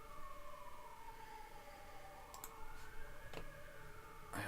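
A European ambulance siren emote from a lichess chess game plays as a wavering, sweeping two-tone wail at low level, with a few sharp clicks over it.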